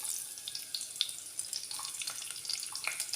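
Small onions, finely chopped, frying in hot oil in a Kerala home kitchen, a steady crackling sizzle with scattered sharp pops close by, no voices.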